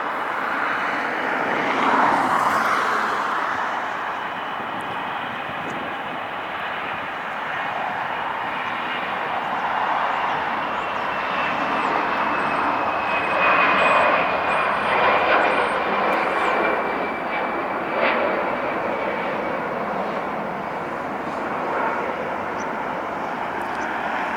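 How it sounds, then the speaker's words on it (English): A Delta Airlines Airbus A319 jet at LAX airport gives off a steady, fairly loud engine roar with a high whine riding on top, sustained from start to finish with no talking. "Delta Airlines 1438 going to San Jose A319."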